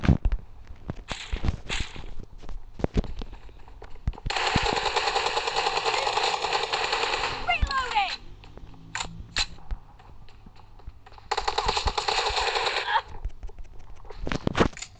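Automatic gunfire in the Free Fire video game during a 1v1 match: rapid, loud bursts of shots in two long volleys with scattered single cracks between them.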